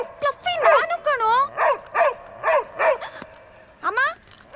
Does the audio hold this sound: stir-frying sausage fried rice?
no